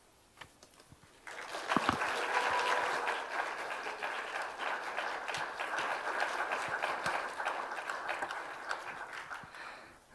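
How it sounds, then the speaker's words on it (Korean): Welcoming applause from a church youth worship congregation swells in after a quiet second and holds as dense, steady clapping for about nine seconds, moderately loud and close, with no talking over it. "우리가 나오실 때 환영의 박수로, 큰 환영의 박수로 맞이하도록 하겠습니다."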